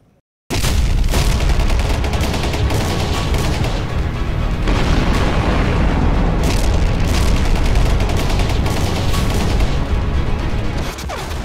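Bombs bursting and gunfire from war footage in the Israel–Hamas conflict roar as a dense, continuous barrage, loud and sustained from start to finish with booming blasts layered over crackling shots.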